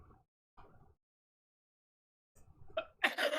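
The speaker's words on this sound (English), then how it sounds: "It's a cough." A single cough bursts out near the end, fairly close and harsh, after a stretch of near silence broken only by a few faint murmurs.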